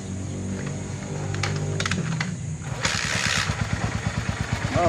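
A Maton 150cc motorcycle, set for conversion to 175cc, is started after some clicking and clattering, then its engine catches and runs in a rapid, pulsing putter close by.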